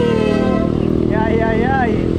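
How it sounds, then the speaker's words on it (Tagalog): Motorcycles rumble through a city intersection on JP Rizal while traffic waits at the stoplight, their engines close and loud with a rising whine, under a person talking. "may tatlong motor nag-beating the red light"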